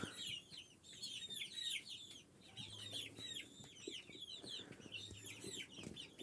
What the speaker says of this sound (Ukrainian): от ці курчата, які їдять корм